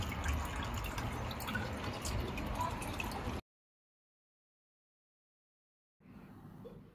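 Water from a small garden fish pond waterfall trickles and splashes steadily, then the sound cuts to silence before resuming more quietly.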